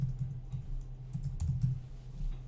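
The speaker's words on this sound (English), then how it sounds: "and you're going to type in the name of the artist." Soft, quick keystrokes on a computer keyboard while entering an artist's name into radio station playlist software, a faint, steady patter of clicks with no talking.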